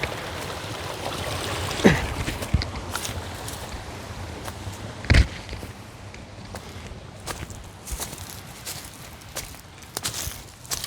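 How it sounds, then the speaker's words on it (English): A forest river being waded across, with steady flowing water and splashing footsteps through the current, a few louder splashes standing out, close by with no talking. "Crossing a river."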